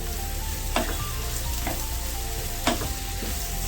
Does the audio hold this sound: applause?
no